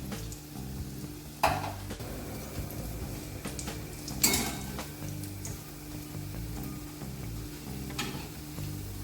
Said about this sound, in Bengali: মিডিয়াম করে এবার আমি আস্তে করে আবার ভাজবো